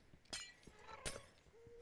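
Glass blocks breaking in Minecraft, two sharp, bright shattering clinks about a second apart, with a few fainter clicks around them, fairly quiet overall.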